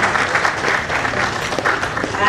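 An audience at a business panel event applauds with dense, steady clapping that stays loud and even throughout, with no voices over it.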